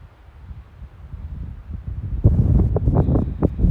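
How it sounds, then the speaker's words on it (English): Wind gusts across an open mountain ridge on the Appalachian Trail, buffeting the microphone with rough low rumbles that build and become louder in the second half. "The wind is whipping a cloud over the mountain."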